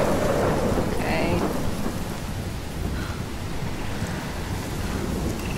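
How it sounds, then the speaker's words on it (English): Heavy thunderstorm with steady pouring rain and a rumbling roll of thunder in the video game Life is Strange, set in Oregon, loud and continuous with no talking. "I've never seen a storm like this in Oregon."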